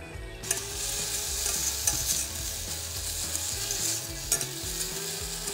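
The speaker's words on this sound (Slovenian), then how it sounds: "Potem jo pa še na hitro popražimo na malo olivnega olja." Chopped shallots sautéing in a little olive oil, a steady close sizzle with scraping stir sounds throughout, no talking.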